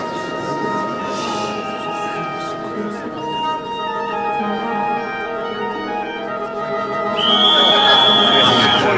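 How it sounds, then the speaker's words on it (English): An audience at a film about the riotous premiere of Stravinsky's Rite of Spring blows whistles, with sustained shrill tones layered over crowd noise and swelling louder and higher toward the end. "Whistles. They've obviously come prepared."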